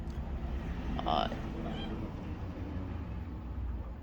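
Cats meow at dinner time while being fed; one short meow rises briefly over steady background noise, with a voice nearby.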